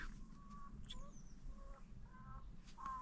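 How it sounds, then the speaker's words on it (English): Hens cluck and squawk around a parked car in a Peak District dale, several birds calling in short bursts near and farther off over a low outdoor rumble. "Surrounded by bloody hens here."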